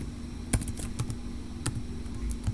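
Keys tapped on a computer keyboard in a short run of distinct clicks at an irregular pace, close and fairly quiet against a faint steady hum.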